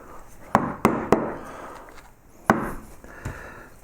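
A chisel stabbed into wood while carving Japanese-style clouds, giving five sharp, close knocks in an uneven rhythm with quieter scraping between them.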